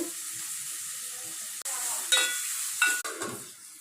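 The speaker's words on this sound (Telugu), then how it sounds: "ఫస్ట్ ఉల్లిపాయలు బాగా ఫ్రై అయ్యాక అల్లం వెల్లిపాయ పేస్ట్" Onions and ginger-garlic paste frying in oil in a pan for chicken curry, giving a steady close sizzle with a few sharper bursts of spatter and stirring, no talk.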